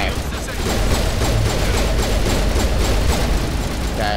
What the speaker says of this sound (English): This defensive turret is such a bitch.